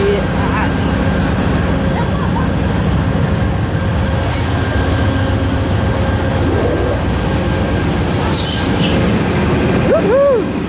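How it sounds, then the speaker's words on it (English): A train rolls past a sidewalk in West Palm Beach: a loud, steady rumble and rattle of rail cars held for the whole span, with a few high squeals near the end and people talking nearby. "Train."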